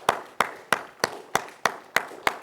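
Clapping at a church service, likely one person or a small group: eight evenly spaced, moderately loud claps in a steady rhythm with nothing else heard.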